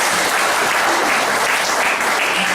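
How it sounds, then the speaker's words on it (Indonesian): Dense, loud audience applause at a couples' life management training seminar, a continuous roar of clapping from a large crowd with no voices over it. "Tepuk tangan."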